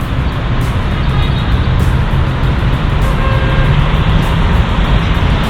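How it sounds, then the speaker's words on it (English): Dense city traffic streams out of a road tunnel at night, a loud, steady broadband roar of engines and tires with no clear gaps between vehicles. "Traffic coming out of the tunnel."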